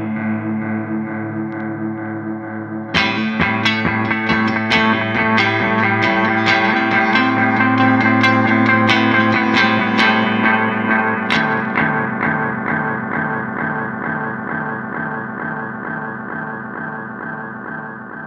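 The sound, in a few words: electric guitar through DM2 analog delay pedal, custom mode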